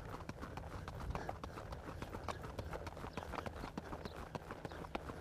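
Quick, evenly spaced hoofbeats of a horse in tölt gait, in a steady four-beat rhythm, close by, with a soft background rumble.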